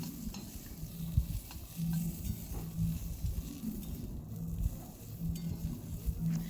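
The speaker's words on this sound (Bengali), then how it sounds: "কালো জিরে ফোড়ন দিয়ে আর একটা শুকনো লঙ্কা দিয়ে আমি সবজিগুলো দিয়ে দিলাম।" Squash and eggplant stir-frying in a pan with black cumin seeds and a dried chilli, a low steady sizzle with scraping stirs and occasional clinks throughout, no talking.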